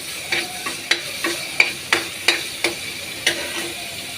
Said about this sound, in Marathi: आपण आता फोडणी देऊन घेऊ। त्यासाठी थोडंसंच 1 चमचाभर तेल घातले, त्यात लसूण हिरवी मिरची